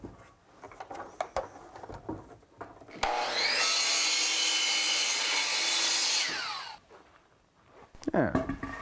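A power saw cuts a wooden trim piece for a dressing mirror to length, one loud, close whining burst of about three seconds between quieter handling clatter and knocks.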